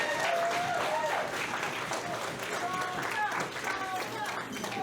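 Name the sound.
audience clapping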